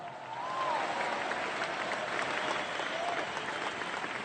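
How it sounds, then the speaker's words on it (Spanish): Steady, sustained applause from a large audience at a world meeting of popular movements, honoring Bolivian president Evo Morales, dense clapping with a few faint cheers over it. "Un fuerte aplauso para el presidente Evo Morales Saima."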